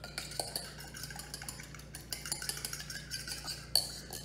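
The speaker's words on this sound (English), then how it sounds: "we're gonna whisk this up" A single egg is whisked in a bowl for a spaghetti squash pizza crust, giving a quick run of irregular light clinks and taps of utensil against dish, quiet and close with no talking.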